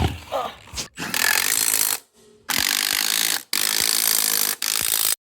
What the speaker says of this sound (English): Got all the lug nuts on. Let's tighten them down.